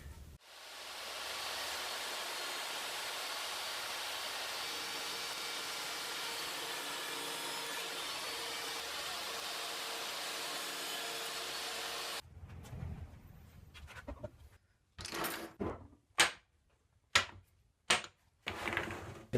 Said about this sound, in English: going to do a little sanding to clean up the rough edges